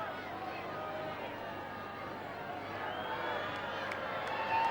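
A distant stadium crowd at a 1986 Tasmanian football grand final, Glenorchy vs Sandy Bay, murmurs and calls out as a kicker lines up for goal, a faint, steady babble that swells slightly at the end.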